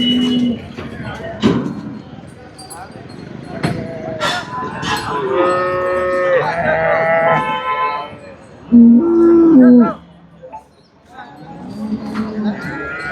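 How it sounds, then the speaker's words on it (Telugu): Cows at a market stall for pure-bred Jersey and HF cattle moo repeatedly, several drawn-out calls rising and overlapping at moderate distance, with a louder close moo near the end amid general crowd murmur and people talking. "చూసినట్టయితే ఆవులు వస్తూనే ఉన్నాయి"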